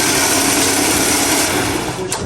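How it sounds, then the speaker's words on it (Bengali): A factory sewing machine stitching along the side of a mattress, a loud continuous close-up mechanical whir with a steady rapid needle rhythm throughout, no talk. "এখন অপর পাশ সেলাই করা হবে।"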